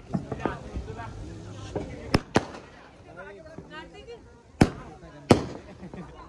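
Diwali fireworks and a sparkler going off during a family celebration, with several sharp, loud cracks and pops scattered among crackling and fizzing, while people talk nearby throughout.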